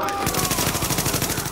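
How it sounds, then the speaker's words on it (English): Rapid automatic gunfire in The Division video game, a fast continuous burst of loud, close shots. "I'm just gonna shoot anyhow."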